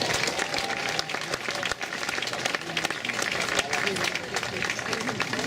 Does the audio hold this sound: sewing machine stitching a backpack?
no